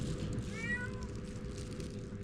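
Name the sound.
cat meowing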